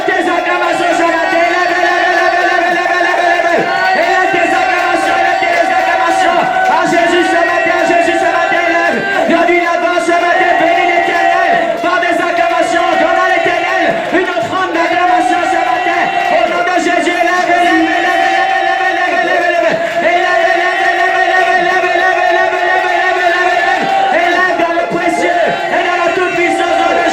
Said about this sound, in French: élève tes acclamations.